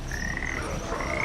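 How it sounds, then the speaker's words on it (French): A frog croaks in the horror video game The Mound: Omen of Cthulhu, a rasping croak with high tonal chirps repeating over roughly a second, clear and alone without talk. "Oh, une grenouille!"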